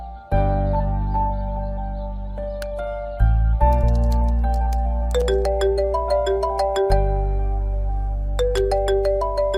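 A phone ringtone plays a melodic electronic tune with sustained chiming notes and repeating phrases, loud and clear for nearly ten seconds, with no talking over it.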